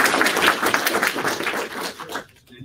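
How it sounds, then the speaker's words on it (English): An audience gives a round of applause after a talk and question session: a dense, steady patter of many hands clapping that thins out and fades near the end. "Let's give a round of applause."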